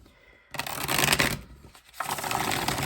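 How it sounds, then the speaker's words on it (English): Once Upon a Dream oracle cards being shuffled, with a quiet start followed by two bursts of crisp, riffling paper flutter, close and moderately loud, with a short pause between them. "One more shuffle"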